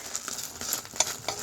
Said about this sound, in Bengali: আমি এগ ভাজছি তোমার জন্য